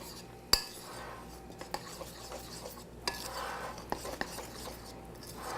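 Bisquick and milk being stirred in a bowl with a spoon: close scraping strokes with scattered clinks against the bowl, quiet and irregular, no talk.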